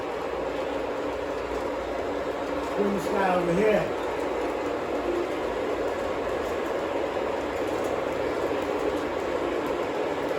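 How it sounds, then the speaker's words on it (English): Several Lionchief Santa Fe model trains run together on a track, a steady close rumble and hum throughout with someone talking briefly over it. "I'm running 1, 2, 3, 4 trains right now."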